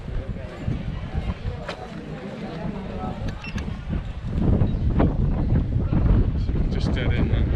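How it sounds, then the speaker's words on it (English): A warm seaside wind blows at Magaluf on Mallorca, buffeting the microphone in rough, fluctuating gusts that grow louder partway through, while a person talks over the rushing air. "It's a bit windy here, but it's a nice warm wind"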